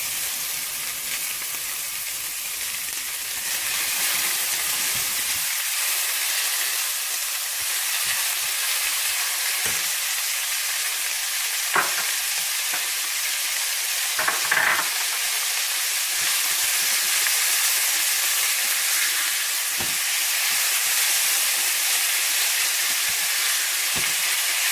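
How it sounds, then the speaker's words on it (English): Onions sizzling in a pan with mustard seeds, a loud continuous hiss and crackle that starts with lower rumble and settles into bright, steady frying with occasional pops, with no talking. "Once they are lightly sauteed, put the onions."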